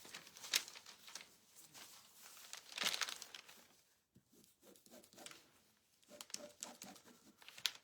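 Scissors cut out a paper template for thrift-store Americana decor, giving close, intermittent crinkling snips and paper rustles in short bursts with quiet gaps, no talking.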